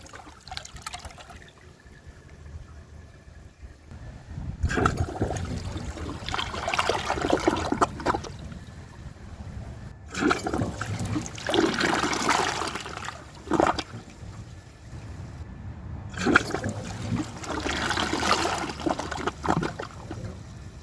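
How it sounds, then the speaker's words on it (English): An American Standard Homestead VorMax ultra-high-efficiency toilet flushing while being primed, water rushing and trickling in repeated surges with brief lulls between flushes, close and fairly loud, no talking. "These first few flushes are known as priming, and for whatever reason these toilets need to be primed so that they can flush properly."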